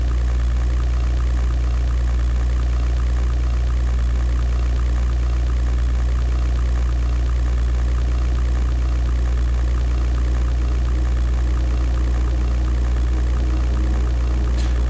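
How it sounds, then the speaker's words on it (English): A steady, deep engine drone hums continuously throughout, low and rumbling like a propeller aircraft in flight, with no voices; a P-51B Mustang in the video game European Air War (1998). "these engine sounds of these bombers when you fly past them is simply amazing"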